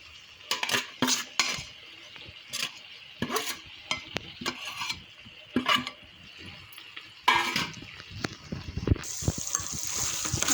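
Chicken sukka mixed with pre-cooked coconut in a pan, with a spoon scraping and clinking against the metal in irregular bursts of stirring over a faint sizzle, close and moderately loud.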